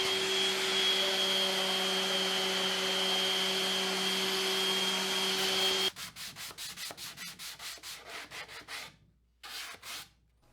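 A wooden vanity table is sanded with 220 grit: first a steady electric sander whine, then a quick run of rhythmic rubbing strokes close by, ending with a pause and a few final passes.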